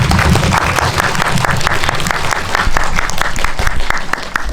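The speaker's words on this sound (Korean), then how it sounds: "저희 다시 한번 큰 박수 부탁드릴게요" Loud, dense applause from a cinema audience at a special guest-visit screening for a film's opening, steady, sustained clapping filling the room throughout.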